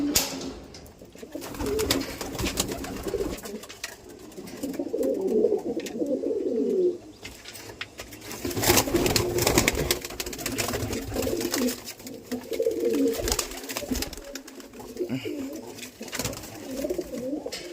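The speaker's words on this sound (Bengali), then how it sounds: "এটা একটা মাদি পায়রা আমার" Pet pigeons, including a female, coo repeatedly up close in low, throaty rolling phrases, with short pauses between bouts.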